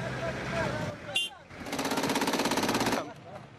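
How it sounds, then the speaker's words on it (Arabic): Rapid automatic gunfire in combat in Anbar, western Iraq, rattles loudly as a fast, even burst lasting about two seconds, preceded by rougher noise and a brief sharp crack. "لم يهدأ أزيز رصاص وأصوات المدافع في الأنبار غرب العراق"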